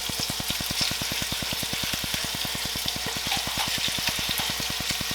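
Spinach, mushrooms and garlic cook in a pan with a steady, even sizzle, joined by a regular fast ticking pulse throughout, close and moderately loud with no talking.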